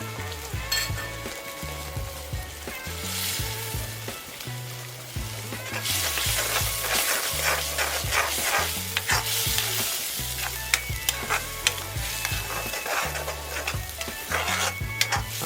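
Mustard paste sizzling and frying in oil with tomato and onion in a pot, with steady loud crackle and intermittent stirring scrapes, louder and hissier in the second half, no talk.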